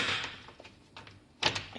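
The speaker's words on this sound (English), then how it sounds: "Nice little door latch" A small door latch on a 14ft boat being restored clicks and knocks shut. A few quiet, sharp metallic taps are spread over under two seconds, close by.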